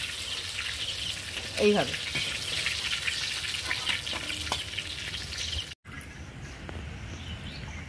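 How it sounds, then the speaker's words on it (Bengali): Pointed gourd (patol) fries in mustard oil, giving a steady close sizzle that runs throughout, with a short spoken word and a brief clatter early on. "পটলটা তুলে নিয়ে একে একে যতগুলো পটল আছে সবটাই ভেজে নেব"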